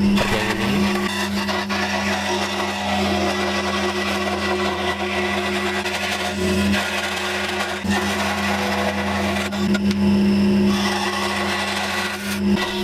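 A scroll saw cuts tight corners and inside curves in a workpiece, giving a steady, loud motor buzz with a strong low hum that runs the whole time without pause.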